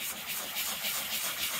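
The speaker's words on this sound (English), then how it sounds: "sand the leather, which is just taking out any texture to give you a smooth finish" Sandpaper rubbing over a worn leather car seat bolster filled before colouring, a soft continuous scratchy friction with gentle repeated strokes, close and fairly quiet.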